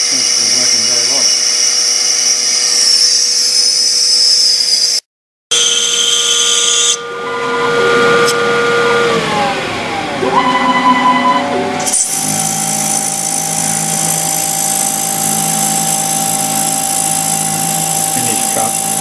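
A metal lathe turns the outer diameter of a flanged part with a parting blade, a steady loud machining whine with shifting tones and a brief break partway through.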